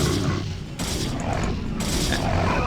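A Protoss Nexus falls under zealot attack in StarCraft II amid a dense, loud barrage of battle noise, with continuous crashing blasts and weapon fire filling the whole stretch and heavy impacts layered on top.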